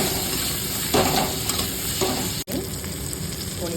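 Fried potatoes sizzling in a pan as ginger paste and tomato go in, a steady close hiss with a few soft stirring scrapes and a brief dropout midway.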